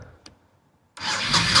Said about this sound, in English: But fired right back up.